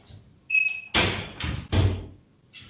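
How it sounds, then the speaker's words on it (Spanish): An indoor door is swung and closed with a couple of loud wooden thuds and rattles, preceded by a faint creak or squeak, heard close and without speech. "Voy a cerrar un poco una puerta para que el sonido..."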